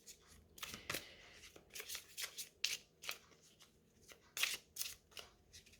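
Oracle deck being shuffled by hand: repeated soft riffles and flutters of cards in quick, uneven bursts, close and fairly quiet with no talking.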